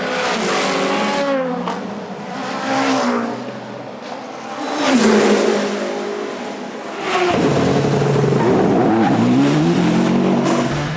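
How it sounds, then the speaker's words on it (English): A race car accelerates out of the pit lane during the WEC 6 Hours of Monza endurance race. The engine note climbs loud and close through the gears, dips, then surges again into a sustained roar. "Pit stop for Jose Maria Lopez, the race leader"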